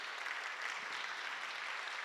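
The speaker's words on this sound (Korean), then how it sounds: "경배와 찬양팀 박수로 한번 좀 격려하실까요?" Steady applause from a church congregation at a Friday praise worship service, encouraging the worship team, even and sustained throughout with no speech over it.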